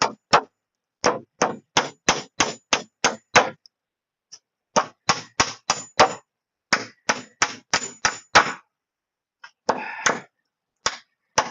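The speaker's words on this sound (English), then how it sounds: "it's hammer time." Hammer blows ring out on nails in old wooden porch boards, sharp close strikes in quick bursts of several hits separated by short pauses.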